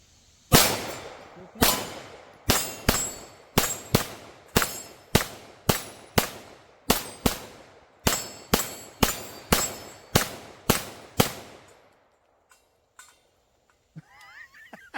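About fifteen loud, sharp pistol shots from a Canik Mete SFX Pro fired at a steel swinger target, in a rapid, steady string with a slight ringing tail after each, followed by quiet and faint clinks.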